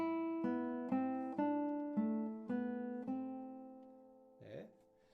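A classical guitar plays the slow top melody line of Sor's Etude Op. 60 No. 2 in single plucked notes, each ringing out before the next, close and clear, ending with a soft scrape.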